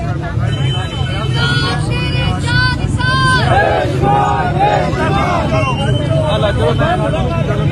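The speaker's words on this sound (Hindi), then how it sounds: "नारेबाजी की जा रही है" A large crowd gathered outside Adiala jail chants slogans in loud, rhythmic call-and-response, voices massed and close, with traffic noise rumbling underneath throughout.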